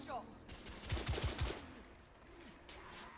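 Several quick gunshots in quick succession from the video game The Order: 1886, loud bursts in the middle of the clip over a low game background and faint speech.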